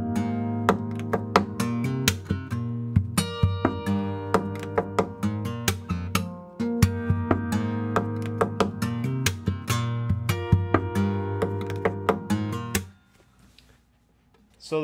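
Acoustic guitar plays a fingerstyle piece slowly, with plucked notes, ringing chords and percussive taps on the body in a steady rhythm, close and clear, before fading to near silence at the end.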